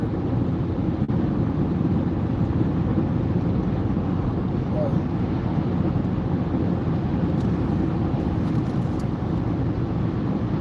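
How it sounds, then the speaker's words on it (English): Steady, rumbling wind buffeting the microphone while driving, constant and loud throughout with a low roar. "It's very windy."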